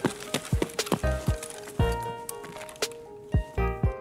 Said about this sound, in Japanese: あ、木の足音。